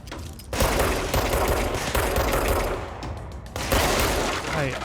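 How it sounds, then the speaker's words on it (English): Gunfire in the video game Control, rapid bursts of loud close shots rattling in clusters, with brief pauses between volleys. "I shot you in the head and you didn't die"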